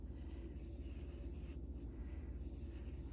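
Pen tip scratching steadily across an acrylic ornament while leaves and small berries are drawn, close and continuous over a low background hum.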